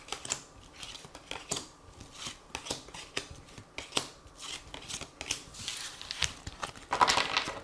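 Tarot cards are shuffled and drawn in a steady run of quick, crisp riffles and slaps, close and fairly loud, with a denser flurry of card noise near the end.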